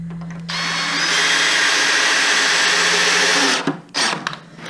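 A DeWalt DCD709 drill drives a screw into tight wood, its motor whirring loud and steady for about three seconds before winding down, followed by a couple of short bursts as the screw seats.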